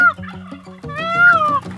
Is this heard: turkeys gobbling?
yes